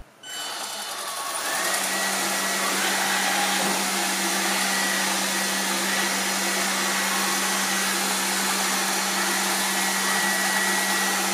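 A Lefant F1 robot vacuum cleaner runs in standard suction mode, starting up after a brief quiet moment and then holding a steady, close whirring hum with a high airy whine on top, with nobody talking.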